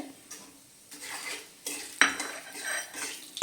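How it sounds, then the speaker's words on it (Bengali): Whole cardamom pods, cinnamon sticks, cloves and bay leaves go into hot oil in a pan for jackfruit kalia, giving clattering utensil knocks and scrapes over a soft background sizzle. "এলাচ 4টে, 2টো দারচিনি স্টিক, 4টে লবঙ্গ এবং 2টো তেজপাতা দিয়ে দিচ্ছি তেলের মধ্যে"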